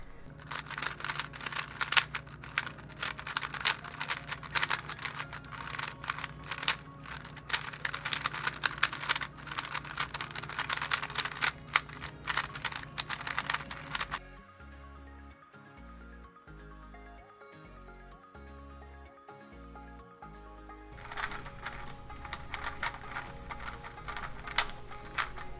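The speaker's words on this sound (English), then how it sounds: "it says to start turning very quickly after you add the lube to make sure that it gets spread around evenly" Ångström Celeritas speed cube being turned rapidly right after lube is applied, a dense stream of fast plastic clicks and clacks, pausing briefly for a few isolated turns before the quick turning resumes.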